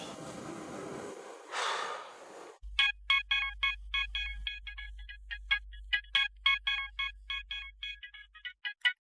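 An incoming phone call rings out as a repeating electronic ringtone melody of short bright tones, loud and close, following a burst of rustling noise, with a low hum beneath it.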